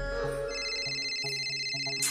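A mobile phone ringtone plays a steady, repeating electronic melody at moderate volume in an indoor scene, with no one talking over it.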